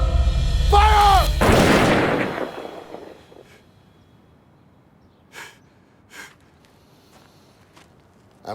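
Gunfire in a drama film: a voice shouts, then a single loud blast booms close by and fades slowly, followed by a few faint, sparse clicks in near silence.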